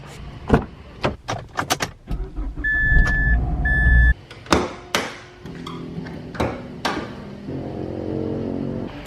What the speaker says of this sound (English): So first thing, gonna pop the hood